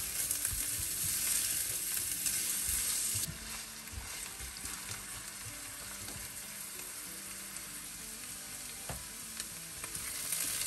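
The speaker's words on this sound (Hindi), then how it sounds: "और अब इसमें ये प्याज इसको शामिल करने लगी मैं।" Chopped onions sizzle and fry in hot oil in a pan, stirred with a spoon now and then; a loud, steady crackle that eases slightly after a few seconds, with no talking.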